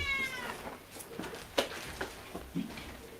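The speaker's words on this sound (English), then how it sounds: "Yes, you hear the kitty?" A cat meows several times, short and fairly close, over a faint background hum with a voice briefly speaking nearby.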